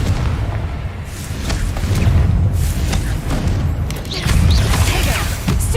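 Confringo spell blasts from a Harry Potter video game thud and boom repeatedly amid a chaotic duel, with low rumbling impacts rising and falling and a voice briefly heard.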